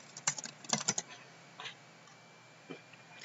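Typing on a computer keyboard, a quick cluster of soft key clicks followed by a few isolated taps, faint and close in a quiet room.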